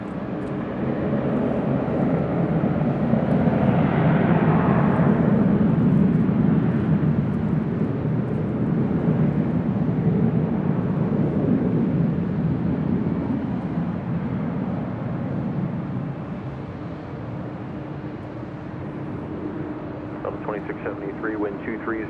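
A Southwest Airlines jet taking off from LAX runway 24 left, its engine roar swelling and then slowly fading into the distance, with radio chatter running over it.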